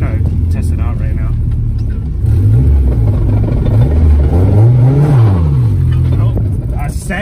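A Nissan S14 with a freshly welded differential accelerating on a test drive, its engine rising and falling in pitch through revs and gear changes, loud and close from inside the cabin with people talking throughout.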